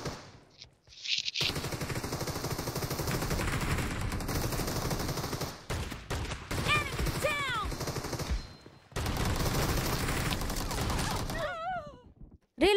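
Rapid bursts of gunfire in a mobile shooter game, loud and sustained with short gaps, mixed with game effects and chirpy tones near the end.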